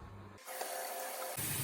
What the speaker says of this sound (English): Now we fill with cold water.